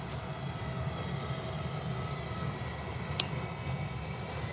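An aircraft on approach to Birmingham Airport in crosswind, a low, steady engine rumble at a distance holding through the clip, with a brief sharp click near the end and no talk.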